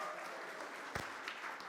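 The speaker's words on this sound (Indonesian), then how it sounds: "Kasih tepuk tangan dulu supaya mereka semangat" A church congregation applauds during an online worship service, a short burst of dense clapping with one sharp louder clap near the middle, fairly soft and brief.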